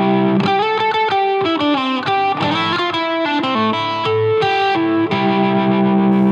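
A Strandberg Paul Masvidal signature electric guitar played through effects with a 1000 Hz EQ boost, giving a nasal, midrange-heavy tone as rapid chords and arpeggiated notes ring out loudly and continuously for several seconds.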